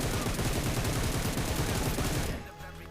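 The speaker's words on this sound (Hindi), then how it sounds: "अब यहाँ पे भाई मैं फ्री फायर देता हूँ" Sustained rapid gunfire in the mobile battle royale game PUBG Mobile, a loud, dense stream of automatic shots that cuts off abruptly near the end, leaving a quieter game background.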